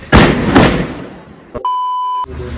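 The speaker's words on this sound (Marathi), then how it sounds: "फटाके फोडायचा कार्यक्रम चालू आहे." Sutli bomb firecrackers set off for Diwali: two loud close blasts in quick succession with rumbling decay, then a pop followed by a steady electronic beep that cuts off abruptly.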